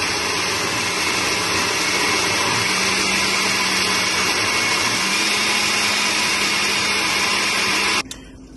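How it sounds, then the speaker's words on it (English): A blender whirs loudly and steadily, pureeing raisins, prunes, cherries, dates and currants soaked in red wine; the motor pitch shifts slightly partway through, then the motor cuts off near the end. "So in the blender here, I have raisin, prunes, cherry, dates, currant, soaked in red wine."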